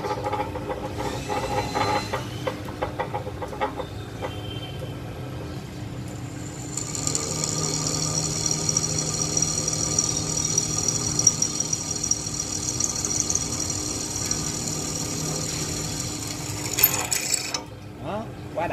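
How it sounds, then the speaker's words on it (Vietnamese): A one-metre-tall Hitachi bench drill press running at a raised spindle speed and drilling, a steady mechanical whir with a bright high whine through most of the clip, continuous and close. "Chúng ta sẽ cùng nhau khoan thử lại."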